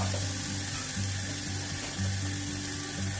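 Masala spices sizzling in a pan for an aloo matar kabab kalia after a splash of water goes in, a steady close hiss and crackle with a low background hum, no talk.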